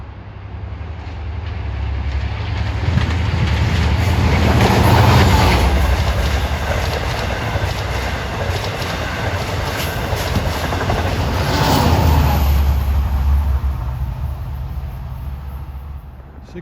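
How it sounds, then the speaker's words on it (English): An eastbound Long Island Rail Road commuter train bound from Penn Station to Port Jefferson rushes past at speed on track 2, a loud sustained roar of wheels and rail clatter that swells twice before fading. "Approaching his train 664 from Penn Station to Port Jeff. Going east on track number 2"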